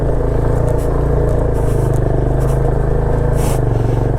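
A motorbike strains up a rocky mountain road in North Sikkim, its engine a loud, steady, labouring drone with rattling and scraping from the rough surface, continuous and close throughout.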